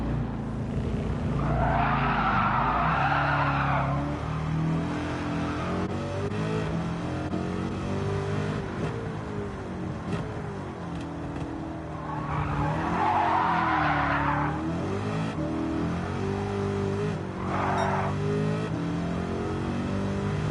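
Mid-engine Corvette in the Gran Turismo 7 racing game, a loud revving engine rising and falling in pitch, with two long bursts of tire squeal and a brief third screech as the car slides through corners.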